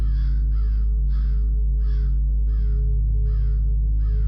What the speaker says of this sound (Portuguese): As aves o acompanharão